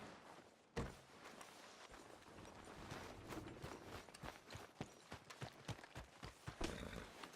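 Horse hooves thud and clop at a steady walking rhythm on the ground in Red Dead Redemption 2, close and fairly loud over a continuous outdoor backdrop, with no distinct whinny standing out.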